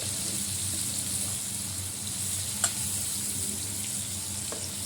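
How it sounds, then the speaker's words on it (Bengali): Fish fries steadily in hot oil, a constant sizzling hiss with a faint low hum beneath and one brief clink midway. "এইভাবে ভাজা ভাজা করে নেবেন, যখন তেল ছেড়ে আসবে"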